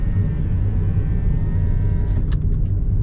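Car driving along Sai Van Lake street in Macau, a steady low road rumble and engine drone heard from inside, with a few faint clicks near the end.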